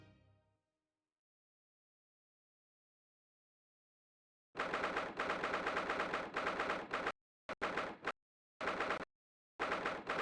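Bursts of loud rapid gunfire in the video game The Great Ace Attorney Chronicles, arriving abruptly after silence and then repeating in several choppy segments separated by short pauses.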